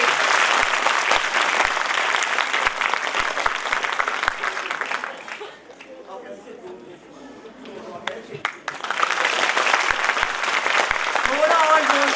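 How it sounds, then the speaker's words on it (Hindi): Loud, dense applause from a school annual function audience for the chief guest dips into a short pause where a voice speaks, then rises again into vigorous clapping. "तालियों में जोर नहीं दिखा अरे चीफ गेस्ट है थोड़ा जोर से"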